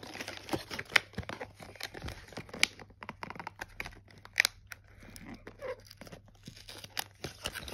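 Crinkly plastic and cardboard packaging around Fortnite Peely headphones being torn and pulled open, with sharp scattered rips and crackles between quieter handling, close up and alone.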